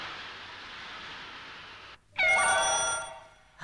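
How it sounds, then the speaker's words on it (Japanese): A telephone rings on a windy day in a children's cartoon, a bright trilling bell bursting in after a steady wind-like hiss, ringing for about a second before cutting off. "あれ、こんな日に誰からの電話かな。"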